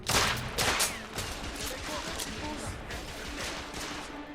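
Gunfire in The Order 1886 rattles out in rapid bursts and single cracks, loud and dense, with some game noise mixed in and no clear speech.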